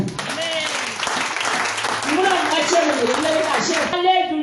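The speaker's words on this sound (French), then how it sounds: "On acclame Jésus." A church congregation claps and cheers in praise, a dense wash of applause mixed with loud voices and shouts from the crowd.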